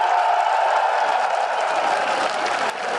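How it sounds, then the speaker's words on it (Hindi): Dense crowd applause at an Imran Khan rally at Liberty Chowk, a continuous loud wash of clapping from a large gathering that holds steady for the whole stretch. "और आप हाथ खड़ा करके तालियों की गूंज में बताइए कि इमरान खान से आप कितना प्यार करते हैं।"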